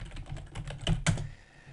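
Keystrokes on a computer keyboard, a short run of soft clicks followed by two louder taps, close and clear, with no talk.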